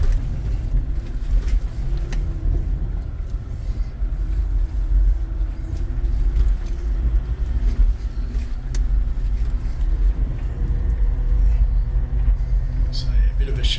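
A 4WD on tyres ill-suited to the exit rumbles steadily through a shallow river crossing with a built-up gravel exit in the Wonnangatta Valley, its engine drone continuous and close throughout, with faint talk underneath.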